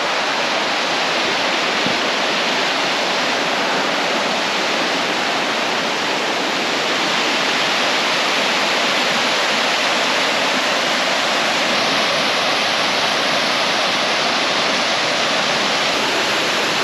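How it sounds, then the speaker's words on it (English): A small waterfall in the Welsh hills of Cefn Gwyngul gives a loud, steady, close rush of falling water that fills the whole stretch without any voices. "Nice little waterfall, that one."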